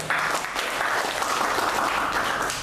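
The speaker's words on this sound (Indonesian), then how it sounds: "sekali lagi beri aplaus kepada semua narasumber" Applause for the speakers at a panel discussion held for Hari Santri 2020 in Semarang, steady clapping from an audience filling the room, close and fairly loud throughout.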